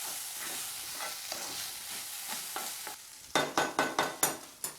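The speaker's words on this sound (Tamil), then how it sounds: "நம்ம மிளகு பொடி எல்லாம் சேர்ந்து ரைஸை நல்லா கலந்து விட்டுடலாம்" Pepper rice and pepper powder are stirred in a sizzling pan, with a soft steady fry under scraping spoon strokes that turn into a quick run of sharper, louder scrapes.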